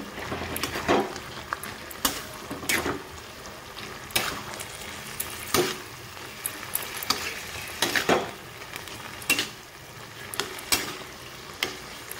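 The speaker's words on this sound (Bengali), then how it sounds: "আর দিয়ে দিব হলুদ গুঁড়ো, ভালোভাবে নাড়ি চেড়ে নিব।" A spoon stirs fish-head bottle gourd curry with turmeric in a frying pan, with steady sizzling and frying and repeated scraping stirs at an uneven rhythm, close and fairly loud.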